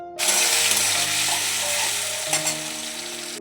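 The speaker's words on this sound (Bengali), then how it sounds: "আলুটা ভেজে নিয়ে করব" Potatoes fry in a pan with a loud, steady sizzle from start to finish, broken by a few stirring clinks, with no talk.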